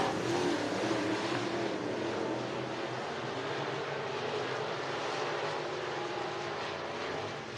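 Race cars lapping the dirt track at Cottage Grove Speedway in Oregon, a steady, dense engine roar that holds throughout with no break, heard from a distance with no talk.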